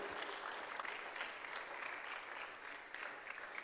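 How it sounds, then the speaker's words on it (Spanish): Steady applause from a sizable church congregation, dense clapping that keeps going at an even level throughout. "Denle un aplauso fuerte al Rey de Gloria."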